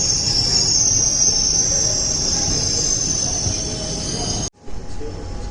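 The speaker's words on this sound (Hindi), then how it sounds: "हमारी भी ट्रेन भी अभी कारवार से छूटने के लिए तैयार है।" An ICF-coach Matsyagandha Express train stands at Karwar station, with a steady low rumble under a sustained high squeal or chirp, loud and close, ending in a sudden brief drop before the hum resumes.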